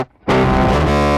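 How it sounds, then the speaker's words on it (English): Saxophones blasted through the Devil-Loc distortion plugin set heavily on crunch, a dense, buzzy, saturated sustained tone that bursts in loud after a brief near-silent start and holds steady to the end. "I think he just blasted some saxes and distorted them, which turned into a fun sound"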